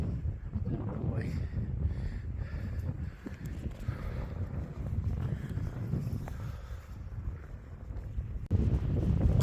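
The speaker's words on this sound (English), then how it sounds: "It's a cold breeze up here on top." Cold wind gusts steadily across a hilltop on a walk between the railway stations of Cortes de la Frontera and Gaucin, roaring low and constant against the microphone throughout, with a stronger gust near the end.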